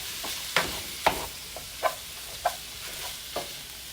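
A pan of 1.5 pounds of lean ground beef sizzles steadily for homemade chili, with a spatula scraping and stirring at regular intervals over the constant hiss.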